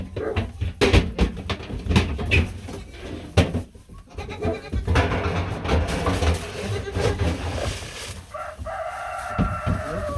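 Goats on a small snowy farm bleat repeatedly and loudly nearby, mixed with chickens clucking and a rooster crowing, while a person talks among the animals.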